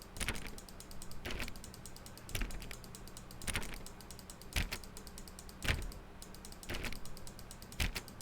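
Rapid, repeated clicking taps come in sharp bursts roughly once a second over a faint hiss, a mouse button being clicked over and over in The Stanley Parable video game.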